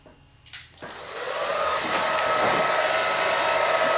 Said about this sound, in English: I hope the hairdryer isn't that loud